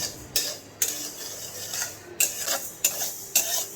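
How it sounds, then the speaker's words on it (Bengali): Moong dal being stirred and dry-roasted in a kadai over a low-to-medium gas flame, with a run of sharp metal spoon scrapes and clinks against the pan in uneven bursts, close and clear, no talking. "কড়াইতে নিয়ে নিচ্ছি মুগের ডালগুলোকে এই সময় গ্যাসের ফ্লেমটাকে লো টু মিডিয়ামে রাখতে হবে আর ভালো করে নেড়ে ছেড়ে হালকা লাল করে ভেজে নিতে হবে"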